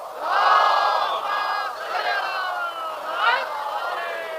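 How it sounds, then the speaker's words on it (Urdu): A large crowd at a Muharram majlis loudly chants salawat in unison, a swelling roar of many voices that holds for several seconds with a second surge near the end. "بلند سلوات"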